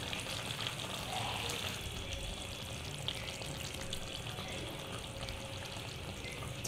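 Chicken roast gravy simmers and reduces in a pan, giving a steady, fairly quiet bubbling sizzle with faint watery hiss throughout and no clear talking.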